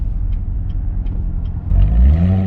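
A C7 Corvette Z06 accelerating hard, low engine rumble swelling into a louder rising roar over the last second, close and alone.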